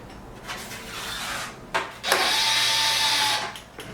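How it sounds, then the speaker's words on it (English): Sticky tape being peeled off a carbon fiber ZL1 1LE body kit on a 6th gen Camaro SS, a couple of close, rasping pulls, the second longer and steadier. "I'm going to go ahead and I'm going to pull the tape"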